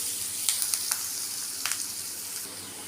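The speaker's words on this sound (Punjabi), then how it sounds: "ਇਹਨਾਂ ਨੂੰ ਹੁਣ ਆਪਾਂ ਥੋੜਾ ਜਿਹਾ ਪਿਆਜ਼ ਨੂੰ ਭੁੰਨ ਲਾਂਗੇ" Onions sizzle steadily in a hot pan for poha, a broad hiss with a few sharp pops and crackles near the start, close up with no talking.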